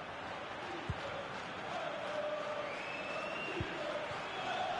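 Stadium crowd in FIFA 21, a dense, fairly faint roar of cheering and chanting that runs throughout, with a few dull thuds of the ball being struck.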